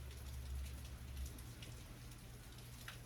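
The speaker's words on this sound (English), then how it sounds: "The rain is really coming down outside" Heavy rain falling outside forms a faint, continuous hiss with scattered patter, heard from indoors with no voices.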